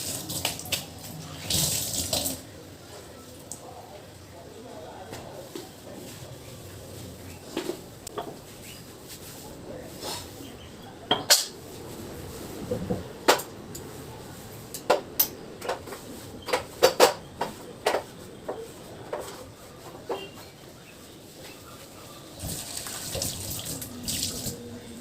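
Running tap water pours into a kitchen sink while dishes are washed, a steady gush broken by clinks and clatters of utensils and plates, with no talking.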